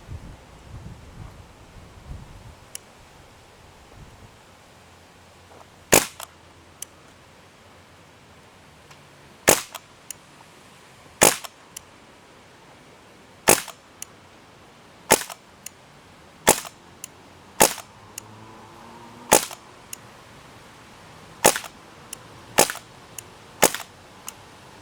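An airgun fired repeatedly from a sandbag rest at a target outdoors, giving about a dozen sharp, separate cracks at uneven intervals of a second or more, over light wind and rustle.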